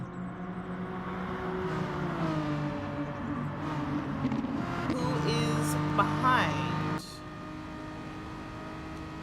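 Race car engines drone steadily in a Gran Turismo online lobby race, sustained revving tones shifting pitch as cars run close together, with someone talking over the engines throughout.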